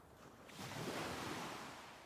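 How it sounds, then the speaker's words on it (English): Ocean waves on a beach shore, a faint, soft swell of surf that rises and then slowly ebbs back, heard alone at a low level. "Just the sound of the waves"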